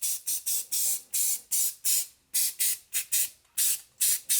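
Repeated short bursts of an aerosol spray can hitting rusty spots on the front brake parts of a Chevrolet Colorado / GMC Canyon, about a dozen quick hissing puffs in an uneven rhythm, close and clear with no voices.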